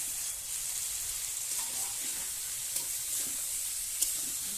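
Plantains go into spice paste frying in oil in a pan, giving a quiet, steady sizzle and hiss with a couple of faint clicks.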